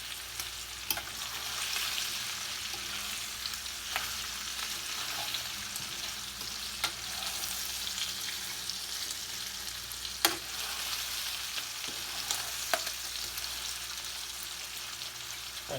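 Food frying in a pan on a stove, a steady, moderately quiet crackling sizzle with occasional sharper pops and spatters throughout, and no talk.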